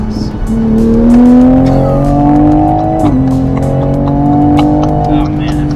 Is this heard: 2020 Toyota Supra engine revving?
yes